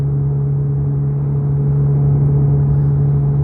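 A motorcycle engine hums as a steady low drone, with wind rushing past during the ride. The noise stays loud and even throughout, with no speech.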